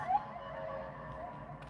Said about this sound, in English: Little siren going down the street.